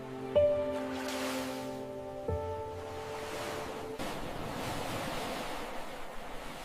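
Ocean surf washes steadily and softly in the distance beneath sustained, ringing musical chords, with a continuous broad rush throughout.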